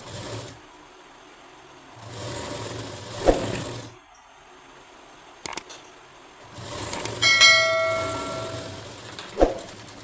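A sewing machine runs in two bursts, stitching the lining of a shape belt blouse, with a steady close mechanical whir, brief clicks and pauses between the runs.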